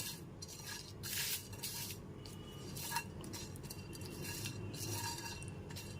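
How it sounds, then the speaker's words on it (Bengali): Coriander and fennel seeds dry roasting on low heat in a pan, with faint scraping and light clinking as they are stirred, quiet and continuous with no talking. "গ্যাসের ফ্লেমটা একদম লোতে রেখে মশলাটাকে হালকা করে ভেজে নেব"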